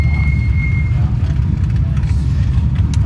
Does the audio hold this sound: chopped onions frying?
no